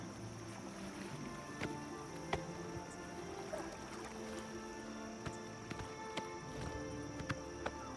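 Horse hooves clip-clop at a steady gait in the video game Oblivion Remastered, as a rider nears a bridge. The steps are faint and evenly spaced under a constant ambient hum.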